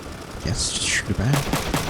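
Bursts of mech gunfire from Front Mission 3, loud and mid-distance, crackling over a swooping high whine while someone talks through it.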